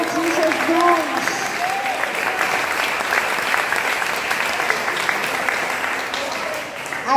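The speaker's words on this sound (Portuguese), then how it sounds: "Louve o Senhor com palmas" A church congregation claps hands in praise, a loud, dense burst of applause running steadily throughout, with faint voices and vocal sounds mixed in near the start.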